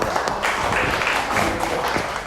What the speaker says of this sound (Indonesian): tepuk tangan sekali lagi buat kelompok